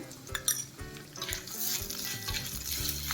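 Tempering spices crackle and sizzle in hot ghee, with a spoon scraping and clinking against the pan, a close, busy frying sound.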